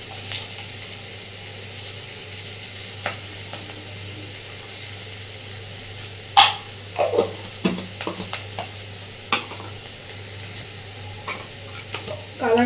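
Onions fry in oil with turmeric for a spiced eggplant dish, a low steady sizzle broken by scraping spatula strokes against the pan that come in quick irregular clusters, close with no talk.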